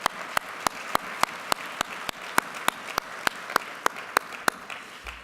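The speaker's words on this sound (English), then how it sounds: "If you'd please give her a round of applause." Slow, evenly spaced hand claps ring out for Polly at a Texas Medical Center event, about sixteen sharp claps over five seconds at a steady rhythm, fairly near with a quiet room underneath and no voices.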